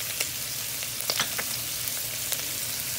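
Shrimp frying in a pan give a steady close sizzle with scattered sharp pops and crackles, and no voices over the cooking.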